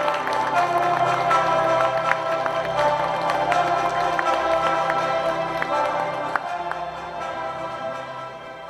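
An audience claps for a politician at a 2023 legislative report meeting, a steady crowd applause with scattered sharp claps that gradually fades near the end.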